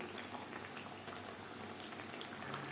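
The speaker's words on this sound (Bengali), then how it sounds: "লো ফ্লেমে রান্না করতে গেলে এই মাছ থেকে অনেকটাই জল বেরিয়ে যাবে" Lote fish simmers over a low flame in the water it releases, giving a faint, continuous bubbling and soft sizzle with occasional small pops.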